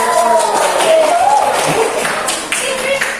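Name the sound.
classroom applause for a group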